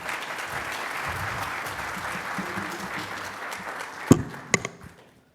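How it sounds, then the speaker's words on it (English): Steady audience applause at a Kansas City cybersecurity panel event, even clapping that fades out, followed by a few sharp thumps and knocks near the end. "One more loud, robust Midwest round of applause."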